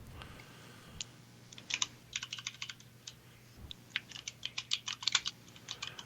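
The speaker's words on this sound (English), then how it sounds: "Now we get to listen to Lori banging away on the keyboard for a while." Someone types on a computer keyboard in bursts of quick, fairly faint key clicks with short pauses between, with no talking.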